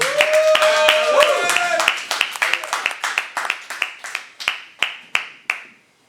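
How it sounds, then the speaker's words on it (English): Applause for a comedian at an open mic comedy night in a bar, starting as a dense burst of clapping mixed with cheers and whoops, then thinning to a few slow, isolated claps that fade out. "Big round of applause for Alex, ladies and gentlemen."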